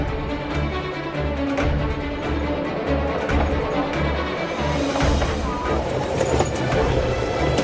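Steady rumble of a train running on rails in New Zealand, with faint rhythmic clatter from the wheels throughout, heard from inside the carriage.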